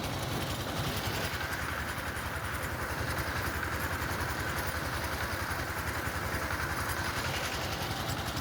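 A power tiller engine chugs steadily in a field on a hot day, a dense continuous mechanical drone with a fast regular beat, close and unbroken throughout.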